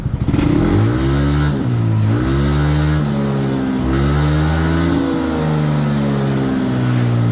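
A motorcycle engine at operating temperature is held at full throttle on its center stand, a loud close drone that dips and climbs again several times as the revs bounce off a limiter.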